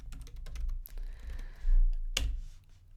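Code being typed on a computer keyboard, a few quiet scattered key taps and clicks with one sharper keystroke near the end, close up in a quiet room.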